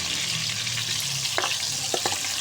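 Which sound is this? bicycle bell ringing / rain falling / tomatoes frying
tomatoes frying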